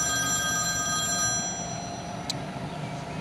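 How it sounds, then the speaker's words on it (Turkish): A telephone rings with a bright, tonal electronic ring that holds steadily and then cuts off, close and clear with no talking. "Aç çocuğum şu telefonu,"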